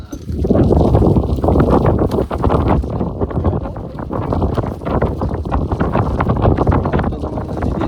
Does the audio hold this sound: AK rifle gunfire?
no